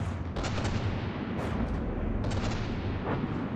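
A ship's guns pound at a target's superstructure in a naval building game, a steady roar of heavy booming shots and impacts blending into a dense, continuous rumble.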